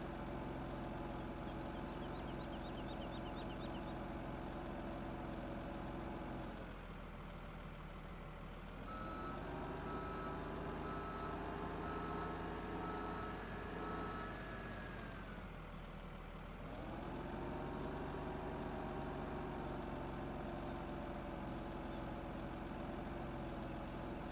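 A wheel loader fitted with a blade drives in Farming Simulator 17, its steady engine drone loud and continuous, easing briefly twice as it shifts, with reversing beeps and no talk.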